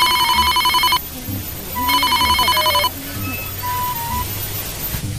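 A telephone rings twice in loud electronic trilling bursts about a second long, with a pause between them. Faint voices and background noise continue underneath.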